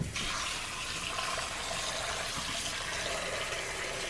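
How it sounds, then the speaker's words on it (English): Water pours steadily into a pot of potatoes in a continuous, close rushing splash with no breaks and no talking. "now I'm gonna add some water"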